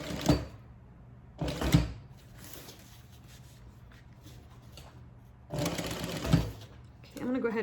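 A sewing machine stitches and backstitches a handbag in three short, loud bursts of rapid mechanical whirring, separated by quieter pauses with faint handling noises and a voice speaking.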